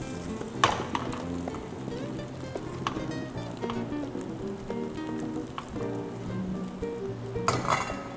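Food frying in a pan on a cooking show, a steady sizzle running throughout at moderate level with occasional brief clatters of utensils and no talk.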